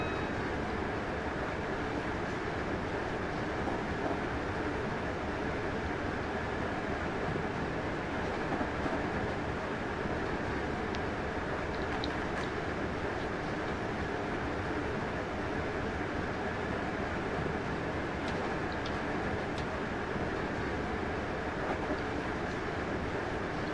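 A Class 321 electric multiple unit runs in Train Sim 2019 near Colchester sidings, giving a steady, continuous rolling rumble with faint clicks throughout and no talk.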